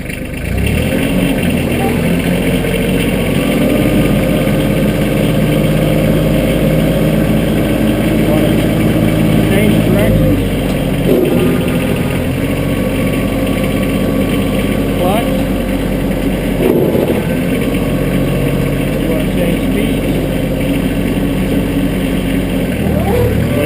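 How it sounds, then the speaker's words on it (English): A Massey Ferguson compact tractor with a Power Shuttle transmission runs in gear, its engine a steady, loud low drone that holds throughout with only small dips in level. "Put it in the range, pick a gear, there's our motor."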